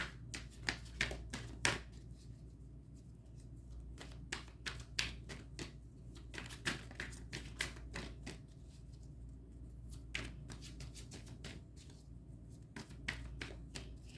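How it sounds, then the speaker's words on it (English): Tarot cards being drawn and handled from a deck, a run of crisp close snapping and slapping card sounds with quiet gaps between them, no talking. "All right, I'm going to pull 2 cards."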